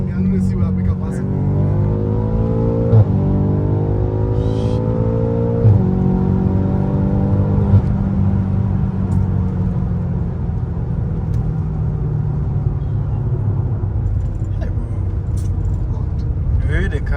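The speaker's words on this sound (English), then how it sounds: "The car just took off" A BMW M car pulls away and accelerates hard, its engine note climbing through a couple of gear changes before settling into a steady rumble, heard from inside with people talking over it.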